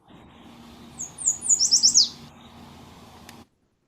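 A yellow warbler sings a quick series of bright, rising-and-falling notes that accelerate into a sweet burst, heard fairly close over a low steady background hiss with no voices.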